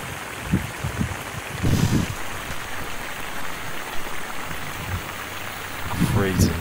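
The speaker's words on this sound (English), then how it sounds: "there's so much water on the top that it's soaking in and the air is coming up" Water soaking into a saturated backyard lawn pushes air up through the grass in a steady fizzing, bubbling wash, close by, with a few louder splashy gurgles scattered throughout.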